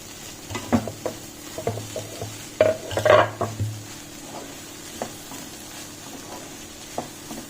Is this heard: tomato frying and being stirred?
yes